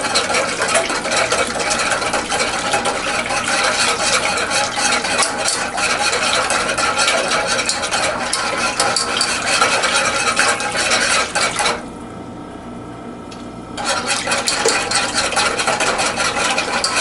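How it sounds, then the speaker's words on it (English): A whisk works steadily through a pot of sugar and liquid to dissolve it, giving a loud continuous scraping and swishing that stops briefly near the end and then resumes. "I'm also going to keep working the whisk because I want to make sure this sugar. I want to make sure the sugar dissolves quickly."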